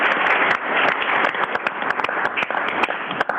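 At a city council meeting, a room full of people breaks into applause, dense overlapping claps with sharp individual hand strikes standing out, moderately loud and close throughout.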